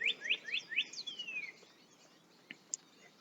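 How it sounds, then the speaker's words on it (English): A few quick, bright bird chirps in a rapid run, then quiet outdoor air with a couple of faint distant calls; no voices. "You can hear the celebration the birds are having."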